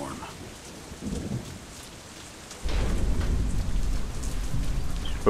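Storm ambience from the Deadlight video game: a soft hiss of rain that swells into a heavier, louder downpour with low rumbling thunder partway through.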